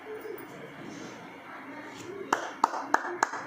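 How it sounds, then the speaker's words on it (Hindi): A handful of sharp hand claps near the end, four or five distinct slaps after a quieter stretch of background voices and bird cooing. "तालियां।"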